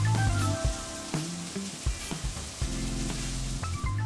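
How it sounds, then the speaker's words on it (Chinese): Chicken pieces for an Indian curry frying in a hot pan, with a steady, loud sizzle throughout and occasional clunks and scrapes of a utensil moving the meat. "我哋第一步咧就系煎咗啲鸡肉先。"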